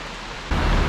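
Rain falls as a steady broadband hiss that suddenly grows louder and denser halfway through, with no voices.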